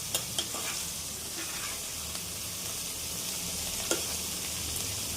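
Onions and three Kashmiri chilies fry in a pan for a Tamil onion chutney, giving a steady broadband sizzle with a few soft stirring scrapes and clicks near the start and one sharper tap later.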